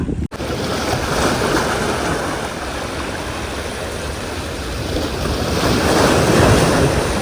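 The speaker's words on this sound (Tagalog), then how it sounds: "Malakas na ang alon." Strong ocean surf roars continuously at a rising tide while fishing from shore, loud and close, with heavy wind buffeting the microphone throughout.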